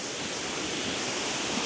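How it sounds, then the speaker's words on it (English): The main waterfall of Glenariff, known as the Queen of the Glen, in a forest park in spring: a loud, steady broadband rush of falling water filling the whole clip without pause. "So this is the main waterfall of Glenariff."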